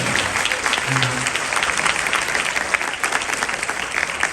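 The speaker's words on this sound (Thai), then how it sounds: "เอาพวกเราปรบมือเป็นกำลังใจให้เพื่อน" Steady applause from a crowd fills the whole stretch, dense and continuous, with a brief voice briefly audible early on.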